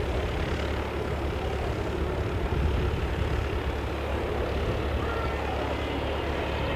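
Airbus jet engines at an airport, one aircraft arriving and another departing, give a steady broad roar with deep low rumble that holds at a fairly even, moderate level throughout, with no speech.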